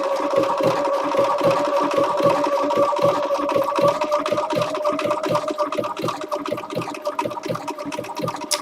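A Bernina sewing machine stitches in a rapid, even mechanical rhythm, close and steady, with the pace slightly loosening toward the end.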